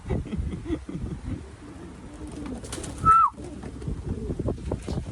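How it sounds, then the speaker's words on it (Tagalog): Racing pigeons at a loft give a low, throaty coo against light wind and background rustle, with one clearer cooing call standing out partway through. "mukhang uuwi na sa kanila mga kalapatids"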